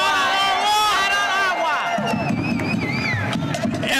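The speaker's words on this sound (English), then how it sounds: "I'm looking at this great crowd" A large crowd at a rally at the Treasury building, a broad murmur of voices and cheering behind a speaking voice, loud and close.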